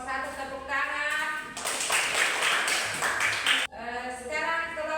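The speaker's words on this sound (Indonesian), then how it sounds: "Sudah selesai kelompok 1, tepuk tangan." A classroom of students claps together after the first group finishes its presentation, a dense burst of applause running a couple of seconds between a teacher's spoken lines.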